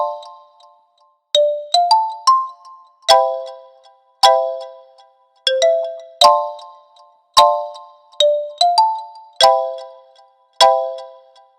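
A bright GarageBand synthesized xylophone melody plays clear struck notes with quick decays, in short repeating phrases and brief pauses, loud and alone.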